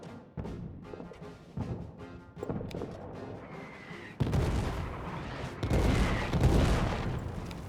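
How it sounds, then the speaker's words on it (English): Heavy gunfire and explosions in the WWI trench game All Quiet in the Trenches, dense and continuous with repeated sharp bursts that swell louder in the second half, no voices. "We are under heavy fire."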